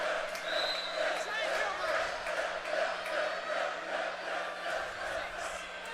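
A volleyball crowd at a college match rises in a sustained roar of cheering, heard from a distance behind a commentator talking throughout.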